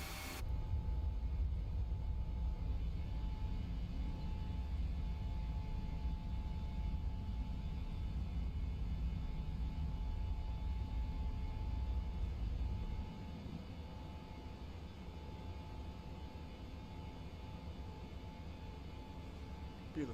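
A PMDG 737-8 jet departs in Microsoft Flight Simulator, heard from a passenger seat as a heavy, steady cabin roar with deep rumble that drops to a quieter drone partway through, with no talking.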